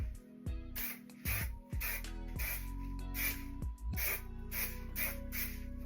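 Hairspray aerosol sprayed onto the roots of curly hair in a rapid series of short, hissing bursts, close and quiet over a low background hum, with no voice.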